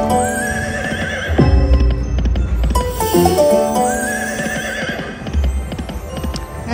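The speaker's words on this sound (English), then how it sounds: "That horse is neighing a lot." In the Dragon Train slot game, an electronic horse lets out repeated loud neighs and whinnies with clip-clop hoofbeats, layered over chiming, tonal slot machine jingles and a low hum.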